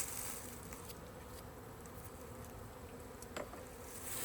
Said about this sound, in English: Well, a lot of bees on the back of that.